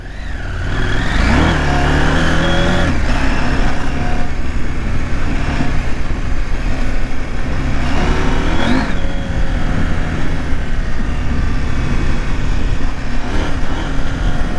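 Husqvarna Norden 901 motorcycle ridden off-road on a dirt track through former vineyard land, its engine loud and steady throughout with a few rising revs, no talk.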